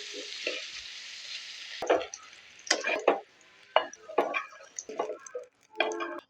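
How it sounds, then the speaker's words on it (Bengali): Potato slices fry lightly in oil with a soft sizzle that fades early, followed by clicking scrapes and taps of a utensil against the pan in uneven bursts, close and moderately loud. "একই তেলে তারা আলু একখানা ভাজি লইম হালকা করে"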